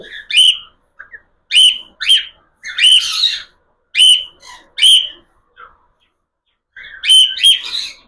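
A cockatiel chick makes high, bright chirps in short bursts with brief pauses between them, close to the microphone and with no talking.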